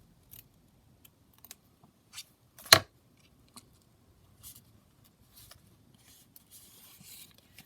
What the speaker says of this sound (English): I'm going to snip out the corners like that, and then I'm just going to snip that one in as well